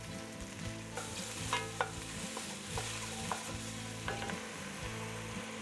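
Onion and sausage sizzling in a soup pot for a dairy-free potato soup, a steady frying hiss with the scrape of stirring running throughout, close and fairly quiet.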